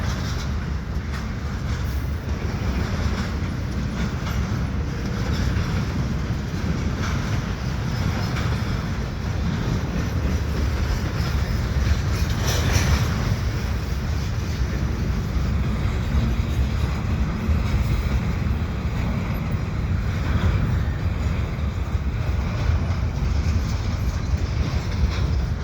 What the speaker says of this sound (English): He's taking up all the slack out of the train.